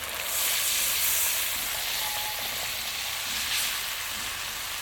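Coconut milk poured onto fried spice paste in a pan for a vegetarian coconut eggplant curry gives a continuous broad sizzling hiss, close and fairly loud, without voices.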